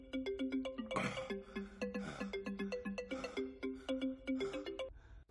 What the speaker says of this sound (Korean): 다시 걸려온 전화